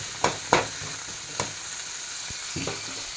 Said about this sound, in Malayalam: ഒരു നാലഞ്ച് വെളുത്തുള്ളി അല്ലി ഒന്ന് നന്നായിട്ടൊന്ന് വഴറ്റിയെടുക്കണം